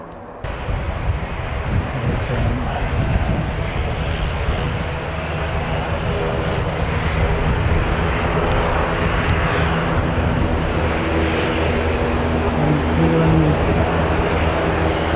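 A fixed-wing airliner passes at an airport spotting spot, its jet engines a broad, sustained roar with low rumble, steady and fairly loud throughout the stretch.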